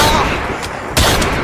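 Two sharp gunshot-like bangs in a staged rural comedy drama scene about shooting at a snake, the second louder and sharper, over a steady background hiss.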